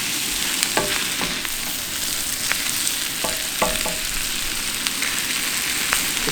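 Green peppers and other vegetables sizzle steadily on a homemade discada for fajitas, a continuous crackling fry with a few soft clinks of a utensil stirring through the pan, close up and without talk.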